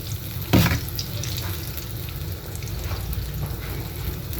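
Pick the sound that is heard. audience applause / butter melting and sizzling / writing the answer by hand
butter melting and sizzling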